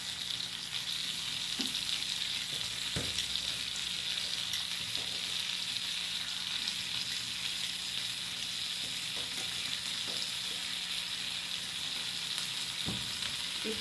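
Shrimp with salt sizzling in a small amount of oil on a griddle pan, continuous close frying hiss with a few sharp taps from tongs moving the shrimp, no talking.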